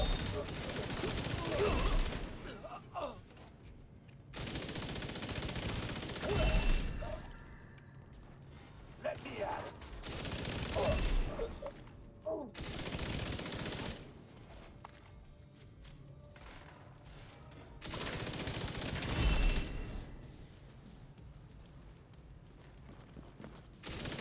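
Bursts of gunfire in a shooter video game, with several loud volleys of rapid shots separated by quieter stretches, mixed with clattering mechanisms and occasional talk.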